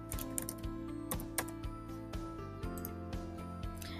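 Rapid keyboard typing while entering a search term on a computer for a Cricut Maker 3 vinyl project, irregular clusters of close, crisp key clicks with brief pauses over a steady faint background hum.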